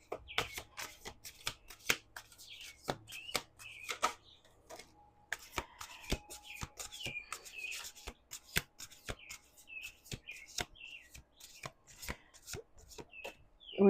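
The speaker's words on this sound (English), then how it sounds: "Let's do two more shuffles." A deck of tarot cards is shuffled by hand in a quiet room, giving quick, crisp riffles and sharp taps in uneven bursts, close and fairly faint, with no talking.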